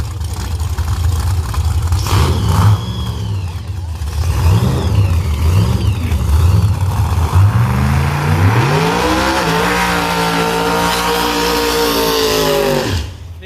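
A 2006 Mustang ProMod nitrous drag car at London Dragway roars loudly, burbling and pulsing at first, then climbing into a long rising, full-throttle howl before cutting off abruptly near the end.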